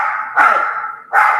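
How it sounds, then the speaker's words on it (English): Gracie, a dog at home during dinner cooking, barks in two loud, close, sharp barks about three quarters of a second apart, with a short whiny tail between them. "Gracie's barking."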